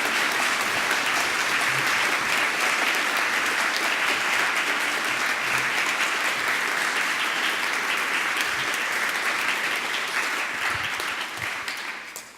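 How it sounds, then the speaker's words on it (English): An audience at a PyCon UK 2018 awards ceremony applauds in a dense, sustained wave of clapping that holds steady for several seconds before starting to fade at the end. "could we give a round of applause to these people in their absence?"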